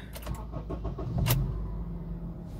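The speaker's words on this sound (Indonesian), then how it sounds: "ini dia suara mesinnya" A 2011 Honda CR-V 2.4 L engine idles with a low, steady rumble, with a few light mechanical clicks and a brief whir early on.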